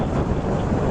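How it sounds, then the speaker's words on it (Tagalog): Strong wind roars into the microphone outdoors in a loud, continuous rumbling buffet with no pauses, drowning out other sound. "Grabe naman yung hangin na yan."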